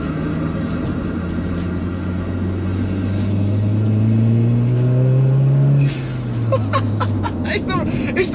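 An engine-swapped 310bhp TFSI VW Caddy van, on air suspension, accelerates from inside the cab, its engine note climbing steadily in pitch before easing off as another gear is taken, with voices low in the background.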